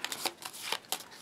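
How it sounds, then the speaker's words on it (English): A deck of game cards is shuffled up close, giving a few quick papery riffles and flutters in short bursts, fairly quiet and with no talk over it. "You always give it a shuffle because you're going to use it throughout the game"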